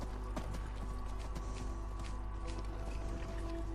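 Horse hooves clip-clop steadily in Skyrim, a rhythmic trot sitting under a loud, constant game ambience with a low hum and scattered mechanical clicks.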